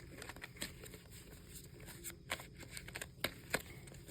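Uno cards are shuffled by hand at close range, producing quiet, quick riffling and patter with a few sharper snaps.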